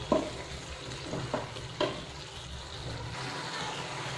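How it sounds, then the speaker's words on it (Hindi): Soya keema cooks in a pan over a high flame, giving a steady close sizzle broken by a few sharp scraping stirs of a spoon. "थोड़ा सा गैस को हाई करके हम पका लेंगे इसे।"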